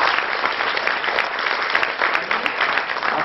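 A crowd at the 2014 Nastik Melava gathering gives loud, dense applause for visiting guests, continuous clapping filling the whole stretch with no pause.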